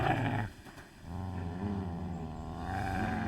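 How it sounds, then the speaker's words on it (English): A dog growls in Kingdom Come: Deliverance 2, a low continuous rumbling snarl that drops briefly and then resumes, steady and close throughout. "Yo, what you growling at, buddy?"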